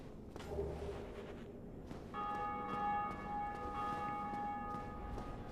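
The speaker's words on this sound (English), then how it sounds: "I hope we get farther away from that bell soon." A large bell tolls repeatedly in Dark Souls Remastered, its sustained ringing tones layered over a low ambient rumble, steady and fairly faint.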